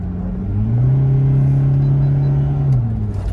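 A remapped Toyota Fortuner 2.8 diesel SUV engine with stock exhaust drones steadily, its pitch climbing as it accelerates then settling, with a low rumbling exhaust and no talking.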